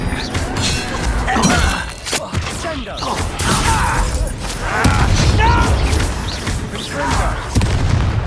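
In the Hogwarts Legacy video game, an Expelliarmus spell fires amid loud, booming combat with crashing, shattering magic impacts and mechanical whooshes, densely layered over several seconds under game dialogue.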